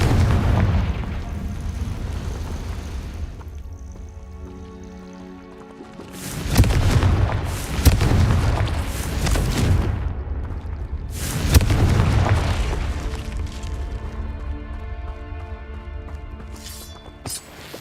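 Confringo fire spell blasts in the Hogwarts Legacy video game: two loud, booming explosions a few seconds apart, each bursting over a rumbling game soundscape and trailing off into a crackling decay.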